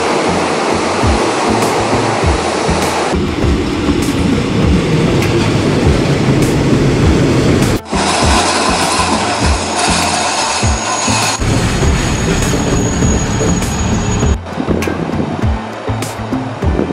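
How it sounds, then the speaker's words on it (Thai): An arriving train rolling into an elevated railway station in Khon Kaen, Thailand, a loud, steady broadband roar throughout with a short break near the middle and a high, thin squeal held for several seconds before it ends. "ตอนนี้รถไฟมาแล้วนะคะ"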